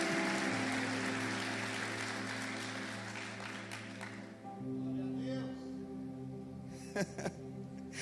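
A church congregation applauding, a dense, sustained clapping that fades out after about four seconds, leaving music and faint voices.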